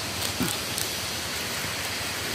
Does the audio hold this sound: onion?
no